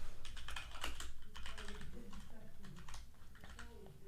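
Rapid clattering keystrokes on a computer keyboard during a coding lesson, steady close typing for the whole stretch with a low background hum.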